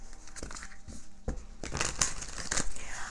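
Crisp crinkling and riffling bursts of tarot cards being shuffled by hand, building into a brisk flurry of papery flicks.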